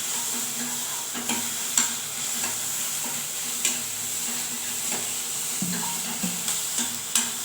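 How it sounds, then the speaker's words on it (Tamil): Onions fry with a little salt in a pan, giving a steady close sizzle. A spoon scrapes and knocks against the pan at uneven intervals as they are stirred. No voices are heard. "இதில் வெங்காயத்தை போட்டு லைட்டாக உப்பு சால்ட்டு போட்டிருக்கேன்"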